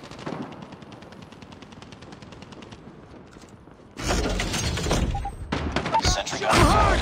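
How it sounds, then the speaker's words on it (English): A sentry gun in the Call of Duty Mobile video game fires in rapid automatic bursts, quieter at first, then louder and denser gunfire with heavy thuds in the second half. "Sentry gun fired."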